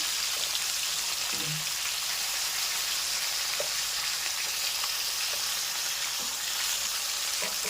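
Rui fish pieces fry in hot oil in a pan with a dense, steady sizzle and crackle throughout, close and even, with occasional soft scrapes of stirring.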